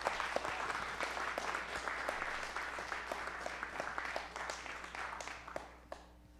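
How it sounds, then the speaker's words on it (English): Town hall audience in Rochester, New Hampshire applauding veterans, a moderately distant sustained round of clapping with dense overlapping claps that fades out near the end. "Let's give them a round of applause,"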